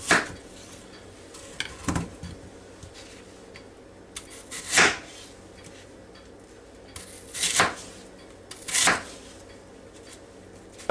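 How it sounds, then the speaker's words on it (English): A knife chops a peeled, cored apple with a few sharp, spaced strikes against a board, close by, over a quiet kitchen background. "Now I need to chop it up."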